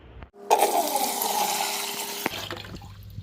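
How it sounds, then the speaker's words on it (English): Water pours steadily from a faucet or container into a metal boil bucket, a loud continuous rushing splash lasting about two seconds before cutting off, with faint clatter afterward. "let me go put some water in it up to the minimum fill line"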